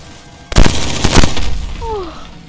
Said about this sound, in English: Did you see those bullets flying by?